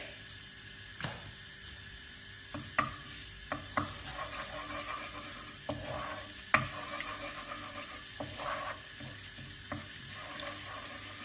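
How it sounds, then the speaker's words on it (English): A squeeze of garlic puree fries in hot oil, a soft steady sizzle broken by scattered clicks and light taps of a utensil against the pan, with no voices. "So that oil is hot now, so I'm just going to put a squeeze of that in, about a teaspoon of garlic puree."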